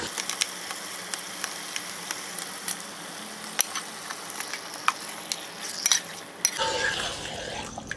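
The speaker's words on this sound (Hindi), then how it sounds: "अभी मैरिनेटेड चिकन जो है वो हम इसमें डालेंगे" Marinated chicken goes into frying masala for chicken korma, with scattered clinks and scrapes of a utensil against the pot over a faint sizzle, close and sparse, ending in a louder, broader burst of frying.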